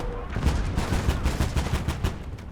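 Dense, continuous battle gunfire and booming shots from a 17 cm K18 heavy artillery gun in the WWII strategy game Gates of Hell, with rapid overlapping bursts and low thuds filling the whole stretch at steady loudness.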